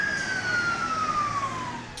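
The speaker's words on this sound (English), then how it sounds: "another ambulance was also seen leaving the hospital to Pomgen" Ambulance siren on a street in Port Moresby, a single wailing tone sliding slowly downward over two seconds, moderately loud amid traffic rumble, no talk.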